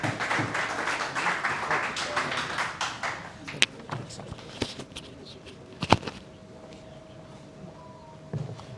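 Audience at a tax bar association lecture hall in Multan applauding, a dense burst of hand clapping that thins out into scattered claps and a few loud individual taps before fading to near quiet.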